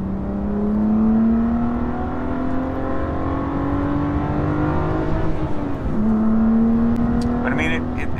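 A BMW M2 CS engine and exhaust drone steadily with a rising pitch as it accelerates, dipping briefly before climbing again, with a few faint high chirps near the end.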